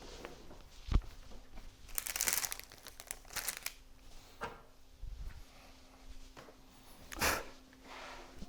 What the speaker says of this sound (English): I'm peeling the sticky back off of these little foam squares